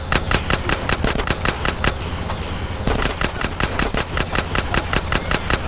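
Machine-gun fire during a train chase in GTA San Andreas, with loud, evenly spaced rapid shots rattling on, one brief pause, then the steady stream starting again.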